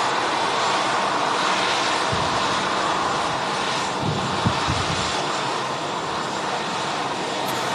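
A fixed-wing airliner's engines roar steadily at Manchester Airport, a loud broad drone that swells slightly midway with some low rumbling.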